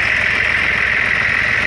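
A Mahindra and an Eicher 380 tractor engine run steadily and loudly at close range, a continuous droning rumble with no speech over it, as the tractors strain while stuck at a mill.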